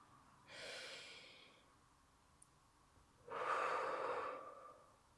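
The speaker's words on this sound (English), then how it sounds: "take a deep breath with me" Two deep breaths, a long inhale followed after a pause by a fuller, louder exhale, close and quiet with no talking.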